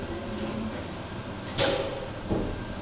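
A Schindler traction elevator's door slides shut with a soft rolling rumble, ending in a muffled thump and a lighter knock a moment later, heard from inside the car over steady low hum.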